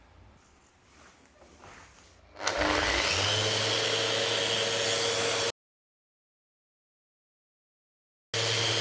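A power sander starts up abruptly and runs loud and steady on wood panels for about three seconds, then cuts to silence before resuming, with only quiet room noise before it starts.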